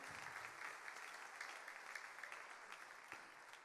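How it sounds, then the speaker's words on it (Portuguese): Steady applause from an audience, many hands clapping at once, sustained and fairly even throughout at a moderate distance. "Você pode aplaudir a Jesus por isso?"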